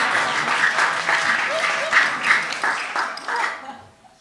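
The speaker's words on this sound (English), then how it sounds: "Sorry, you don't have to clap," Audience at a festival talk applauds steadily for about three and a half seconds, a full, even wash of clapping that tapers off at the end.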